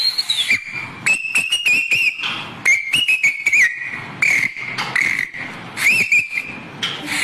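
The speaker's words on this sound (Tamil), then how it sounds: "நம்ம சின்னம் விசில் சின்னம் எப்படி ஊதுனா" A handheld whistle is blown again and again during street campaigning, sharp shrill blasts in quick irregular bursts with short pauses between, loud and close throughout the clip.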